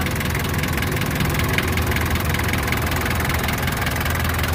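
A 1989 Daihatsu Taft GT 4x4 engine idles steadily and close by, a constant low rumble with a slight knocking roughness that holds even throughout, with no talking.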